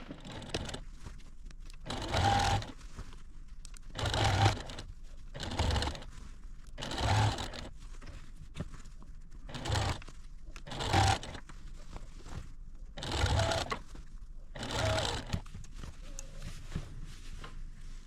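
A sewing machine stitches a seam on a fabric garment bag in about eight short, evenly spaced bursts of rapid whirring, with quiet gaps between them.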